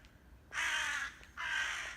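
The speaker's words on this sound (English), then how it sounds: "grumpy crows" Two loud, drawn-out caws from crows in a quiet cemetery, each a harsh rasping call lasting about three-quarters of a second, separated by a short pause, close and alone with no talking.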